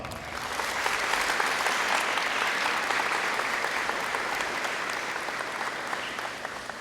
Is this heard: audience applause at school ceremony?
yes